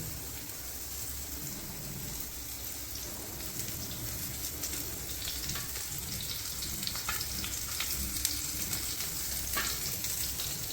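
Fish, surmai and karli, coated in semolina and shallow-frying in a pan, a steady close sizzle with crackling pops throughout, with no voices present.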